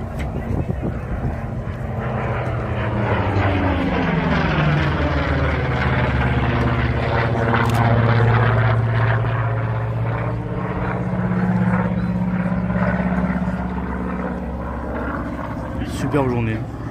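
A propeller-driven warplane once armed with six machine guns flies past at an air show at Valence-Chabeuil in the Drôme, its loud droning engine sweeping down in pitch as it passes, sustained and close.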